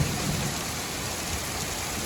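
Hail and heavy rain pour down in a Carpathian forest, a dense, loud, continuous hiss and patter with no pauses, heard close up from under a small shelter.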